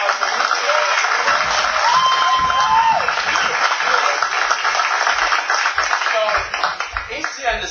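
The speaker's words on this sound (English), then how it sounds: "Can I have a huge round of applause for you?" Sustained applause from an audience at an ACN team promotion event fills the room at steady volume, with voices and cheering mixed in before it starts to thin near the end.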